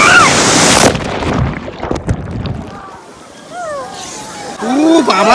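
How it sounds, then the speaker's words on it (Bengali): Strong surf crashes on Digha beach, loud rushing water and wind noise dominating up close, with excited voices calling out over the waves. "বাবা রে, জল এত জোরে ধাক্কা মারছে ভাই"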